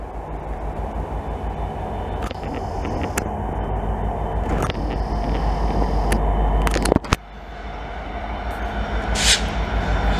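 A westbound CN freight train rumbles steadily past nearby along Highway 20 in Montreal, with clattering wheels and sharp metallic bangs from the cars, loud and continuous throughout.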